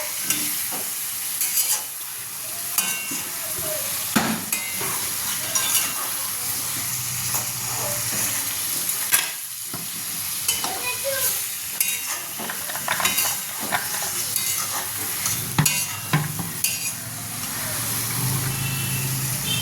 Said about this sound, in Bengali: এবার নাড়াতে হবে ভালো করে।